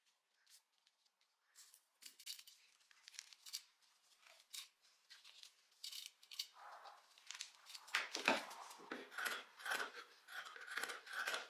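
Scissors snip through folded fabric for a blouse pattern piece, a run of close, crisp cuts that start sparse and faint and grow quicker and denser, with a voice speaking quietly in places.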